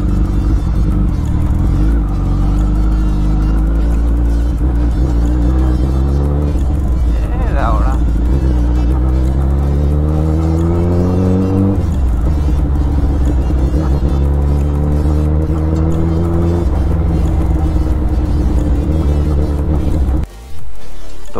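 A Suzuki Hayabusa motorcycle on a test ride along a rough road after a chain and sprocket change. Its engine rumbles loud and steady, rising and falling through the gears, while someone talks over it.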